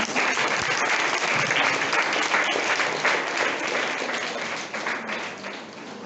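A crowd of students and faculty at a college mathematics department session applauding a presenting team, a full, steady patter of clapping that fades a little toward the end.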